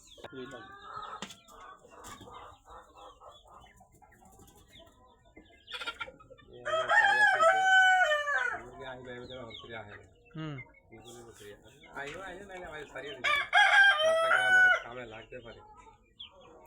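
A hobby-kept tiger-breed rooster crows loudly and close, with two long strained crows a few seconds apart, while people talk nearby throughout.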